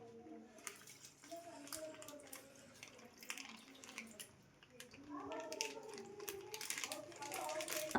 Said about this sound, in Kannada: ಅದಕ್ಕೆ ಸ್ವಲ್ಪ ನೀರು ಹಾಕ್ಕೊಂಡು ನೀರು ಆ್ಯಡ್ ಮಾಡ್ಕೊಳ್ತಾ ಇದ್ದೀವಿ.